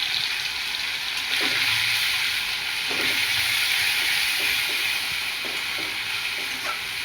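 Ginger-garlic paste with cumin seeds frying in hot oil for stuffed bitter gourd, a steady close sizzle with faint stirring scrapes and occasional soft clinks throughout.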